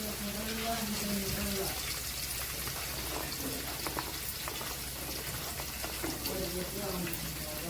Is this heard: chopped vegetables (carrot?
yes